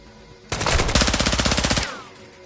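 Automatic gunfire in the Call of Duty: Modern Warfare II campaign, a loud burst of rapid machine gun shots lasting over a second, sharp and close, ending with a brief ringing tail.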